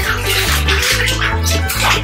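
Running water pours loudly and continuously in a bathtub as a chihuahua is rinsed during its bath, a close, full splashing flow that fills the scene.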